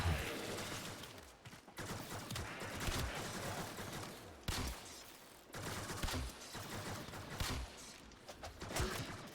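Gunfire in Warframe comes in rapid automatic bursts that stop and restart several times, loud and dense, with a few brief pauses between volleys.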